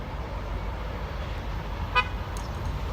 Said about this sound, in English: Hey, train horn!